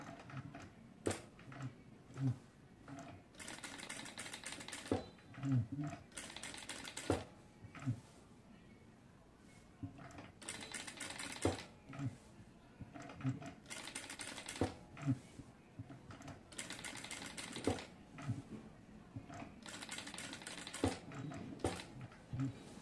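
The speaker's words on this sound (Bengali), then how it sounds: "এখন হচ্ছে এটিকে আমি সেলাই করব।" A sewing machine stitching a boat neck design, running in repeated short bursts of rapid mechanical clatter with pauses between them, fairly faint and close.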